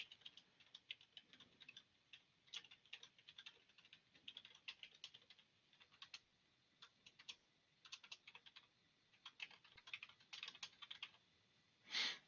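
Rapid keystrokes on a computer keyboard as a message is typed, an uneven run of light clicks and taps throughout with short pauses, ending in a louder final key press; no voices.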